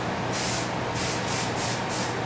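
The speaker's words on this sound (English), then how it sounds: "just give it a light little dusting of spray adhesive" 3M77 spray adhesive misted in light passes over wax paper draped on a table: a steady close hiss with four or five short pulsing bursts, no voices.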